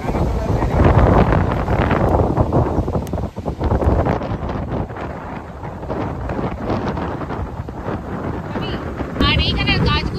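Strong wind gusts at Juhu beach in Mumbai amid light drizzle and waves, a loud, buffeting roar that batters the microphone and varies in strength throughout.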